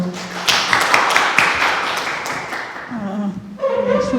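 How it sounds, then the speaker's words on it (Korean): Applause and scattered clapping from a village forum audience in Hwaseong, welcoming a Gyeonggi community-support team leader to the podium; dense broadband clapping for about three seconds, fading as a voice begins near the end. "박수로 맞으십시오."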